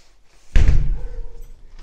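A small door into a house cellar is swung shut with one solid thud, followed by a brief rattling decay in a quiet room.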